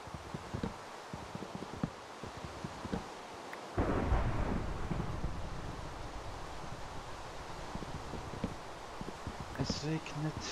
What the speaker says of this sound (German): Ja, ja man, Regen nervt übertrieben.